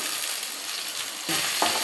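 Crushed garlic and curry leaves frying in hot oil for rasam, a steady close sizzle with a brief stirring scrape near the end.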